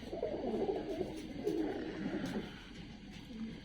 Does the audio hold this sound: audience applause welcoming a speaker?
no